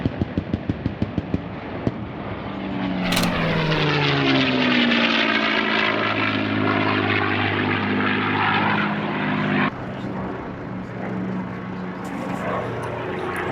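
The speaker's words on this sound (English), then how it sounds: "The P-51 Mustang, named Quicksilver, is piloted by Scott Yoke" A P-51 Mustang warbird named Quicksilver roars past overhead, its propeller engine building to a loud, throaty drone whose pitch sweeps downward as it passes, then fades into a steady distant hum.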